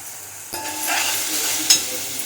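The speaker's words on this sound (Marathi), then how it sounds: "थोडासा कांदा परतू दे" Onion sautéing in a pan with ready-made paste, heard as a steady sizzle close by with a stir and a brief clatter partway through.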